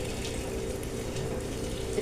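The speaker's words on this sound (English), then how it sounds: "I'm going to throw the water in." Water pours steadily into a pot of Jamaican-style red peas soup with pigtail, a soft continuous splashing wash lasting a couple of seconds, fairly quiet and with no talk over it.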